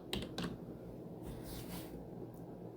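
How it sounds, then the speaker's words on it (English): Typing on a computer keyboard, a few faint quick key clicks near the start over a low steady room hum, quiet and brief. "I'm gonna type the word child here."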